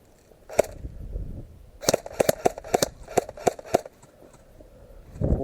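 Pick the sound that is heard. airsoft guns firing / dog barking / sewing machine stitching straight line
airsoft guns firing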